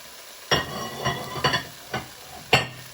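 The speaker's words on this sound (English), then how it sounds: "You want to give that a bit of a stir" Diced potatoes are stirred into bacon, onions and celery in a pan, five distinct scraping knocks of a spoon spaced unevenly over a faint sizzle, close and with no talking.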